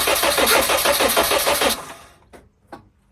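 A Nissan Primera P11 GT engine cranks over with a rapid rhythmic churning for under two seconds, then stops, followed by two faint clunks.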